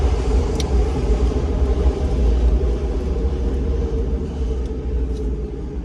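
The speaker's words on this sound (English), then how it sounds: "that's the train passing us" A train passes close by a moving car on a Philadelphia street, a loud, steady low rumble with broadband roar that holds level throughout with no talk.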